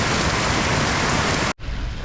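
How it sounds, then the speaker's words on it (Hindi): Loud, dense rain with hail pours steadily with a hard hissing roar, cutting out abruptly near the end before resuming more softly. "तेज़ बारिश के साथ ओले भी पड़ रहे हैं और आपको आवाज़ आ रही होगी, काफ़ी तेज़ बारिश हो रही है"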